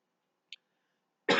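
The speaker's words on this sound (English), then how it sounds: "I may have to cut this a little short just because I feel like my coughing is going to start." One close, abrupt cough bursts out at the very end after near silence, preceded by a tiny faint click.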